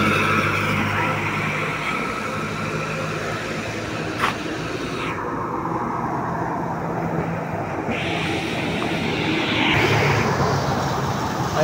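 A bus bound for Cagayan passes along a roadside in steady, loud road noise, with a broad rumble that swells and fades and a brief sharp hiss partway through.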